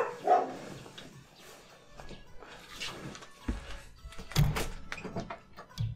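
A dog barks in the video game Rune Factory 5, a few short, fairly faint yips and barks scattered over quiet game sounds.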